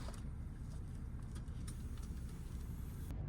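A night bus engine in Osaka rumbles low and steady as the bus departs, a faint, continuous drone with slight road hiss and no talking.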